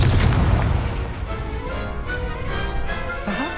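A Confringo spell explodes in the Hogwarts Legacy video game with a loud, deep boom at the start. A rumbling tail follows, with a few softer bursts that fade over the next few seconds.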